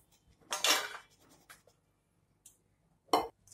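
Boiled dal and amaranth stalks are scooped from the cooking pot into another vessel, giving a few close metallic scrapes and clinks of a utensil against the pot, separated by quiet gaps.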